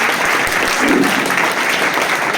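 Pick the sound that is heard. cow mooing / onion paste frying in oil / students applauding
students applauding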